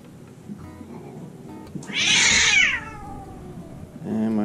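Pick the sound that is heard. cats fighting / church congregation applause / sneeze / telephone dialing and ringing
cats fighting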